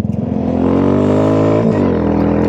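A Royal Enfield Scrambler 350 motorcycle, a custom build, revs loudly and steadily close by, its engine note climbing and briefly dipping during a gear change before pulling on.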